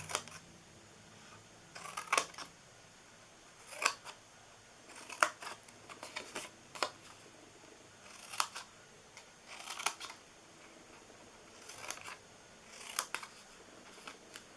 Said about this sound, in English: Then we're going to cut the sides.